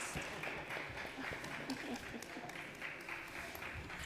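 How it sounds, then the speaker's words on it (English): Faint, distant applause ripples through the New York City Council chambers at City Hall after a panel is dismissed, a low, steady patter of many hands with a hint of crowd murmur. "we're going to refrain from applause in the chambers"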